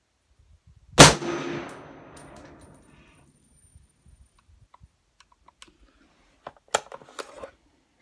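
One loud, close gunshot from a Smith & Wesson M&P 10 rifle firing ZQI 7.62x51 NATO ammunition, with a long decaying echo, followed seconds later by faint clicks and clinks.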